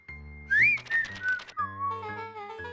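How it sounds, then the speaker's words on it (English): A character in the video game Beacon Pines whistles to himself while leafing through documents, a clear, wavering melodic whistle with rising and falling notes over soft background music. "He whistled to himself, barely looking at the text."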